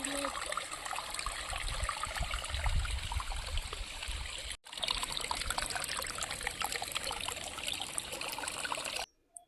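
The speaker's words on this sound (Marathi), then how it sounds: "कसा खळखळ आवाज येतोय" A small rain-fed stream trickles and gurgles over a hillside trek trail, a steady close babble of running water that continues throughout, broken only by one brief dropout.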